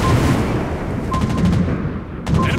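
Anti-aircraft guns fire from a tier 6 US cruiser, the Pensacola, in the naval video game World of Warships Blitz: loud, dense rapid bursts over a heavy booming rumble, with no voices.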